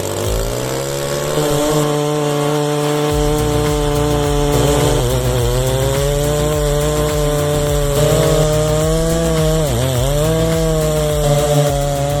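A chainsaw rips through a massive log about five feet in diameter, its engine holding a loud, steady, high-pitched whine right up close for the whole stretch, with slight dips in pitch as the chain bites into the wood.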